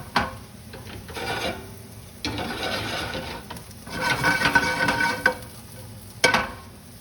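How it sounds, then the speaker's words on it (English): Shiitake mushrooms sauteing in sesame oil, a close sizzle broken by bursts of stirring and scraping in the pan, with a sharp knock near the end and no speech. "So first we'll start by sauteing the shiitake mushrooms."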